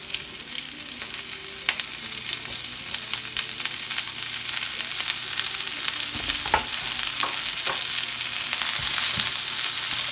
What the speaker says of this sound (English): We're going to keep it on the medium-high heat and stir it all up.